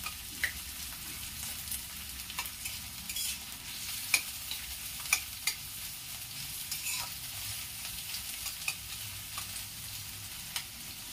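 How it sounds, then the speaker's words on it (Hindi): Mixed vegetables fry on a high flame for a pasta dish, giving a steady broadband sizzle with intermittent scraping stir clicks throughout, close and alone with no voices. "उसके बाद सारे सब्जी को मैं डाल दूंगी और गैस को मैं अब हाई फ्लेम पर कर रही हूँ।"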